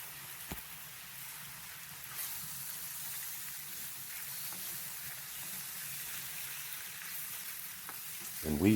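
Brussels sprouts pasta with oil and cheese stirred in a pan makes a soft, steady sizzle and crackle throughout, fairly faint, with a light clatter of utensil on pan right at the end.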